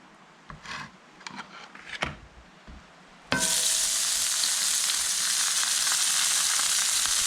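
Onions dropped into a hot pan with bacon fat burst into loud, steady sizzling, after a few quieter clinks and shuffles of cooking.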